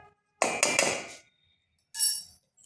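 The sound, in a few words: whisking rice flour batter in a bowl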